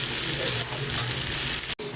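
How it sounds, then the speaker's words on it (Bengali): Onions frying in a pan over a high gas flame, a steady close sizzle with light stirring scrapes, ending in a brief dropout. "এবার গ্যাসের আঁচটাকে হাই করে আমি বেশ ভালোভাবে একটু ভাজা ভাজা করবো। যতক্ষণ পেঁয়াজটা লাল না হচ্ছে আমি ততক্ষণ এটাকে ভাজবো।"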